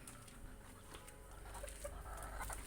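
Chickens kept in a small enclosure cluck faintly in the background, soft, scattered calls over a low steady ambience.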